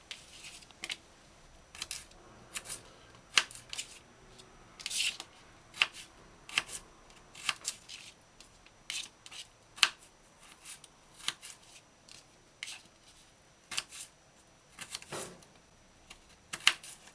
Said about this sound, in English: You just put the flat part on the chopping board and cut carrot sticks.